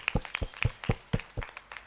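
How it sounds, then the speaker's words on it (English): A small group at a food systems conference claps briefly, a handful of separate, fairly close claps in an uneven rhythm rather than a full ovation. "Let's give him a round of applause."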